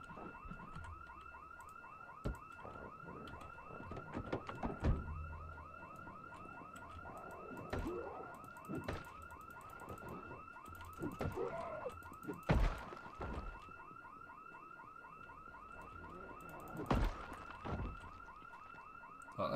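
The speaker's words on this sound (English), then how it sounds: "now the alarm's gone off" A car alarm in the zombie survival game Project Zomboid wails in a steady repeating electronic whoop, with scattered thumps and knocks breaking through now and then.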